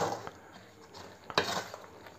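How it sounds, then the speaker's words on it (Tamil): A laddu mixture is stirred with sugar syrup in a pan, giving quiet scraping and a few light clinks of the spoon against the metal, with one louder knock near the middle. "இப்போது சர்க்கரை பாவு இதெல்லாம் ஒன்றா கலந்து வர மாதிரி கிளறிக்கணும்."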